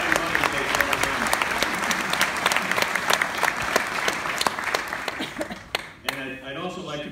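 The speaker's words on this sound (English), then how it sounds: "So give us a round of applause for the Happy Mother's Day to all the moms." A commencement audience claps for the moms in sustained, loud, dense applause that fills the hall, fading near the end as a voice begins speaking.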